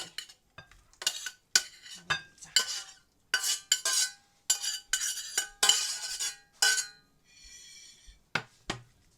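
Tossing a Thai salad of napa cabbage and hot dog sausage in a bowl, a series of irregular clinking, scraping utensil strokes with short pauses between them, close and fairly quiet.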